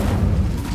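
A fire spell, Incendio, is cast at dry vines in the Hogwarts Legacy video game, a short, loud, low rumbling whoosh of flame with no voices.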